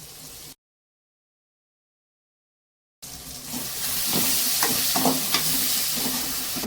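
Onions and tomatoes sautéing in a covered pan over low heat, a steady close sizzle and hiss with soft stirring clatter, cutting out briefly before returning louder, no voices.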